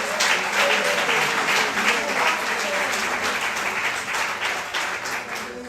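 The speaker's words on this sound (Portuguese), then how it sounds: "Dê uma salva de palmas ao Senhor." A church congregation breaks into sustained applause during a service, many hands clapping in a thick, steady wash that carries on for several seconds, with voices faintly underneath.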